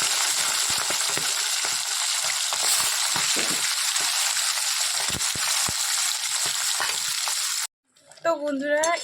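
Fish coated in turmeric and salt frying in hot mustard oil makes a loud, dense, continuous sizzle with occasional stirring clicks. It stops abruptly near the end, and a voice then speaks.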